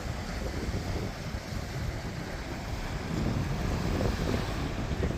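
Waves washing over a coarse-sand coral beach at Sharm El Sheikh, a constant rushing hiss of surf blended with gusty wind noise on the microphone, swelling slightly louder toward the end.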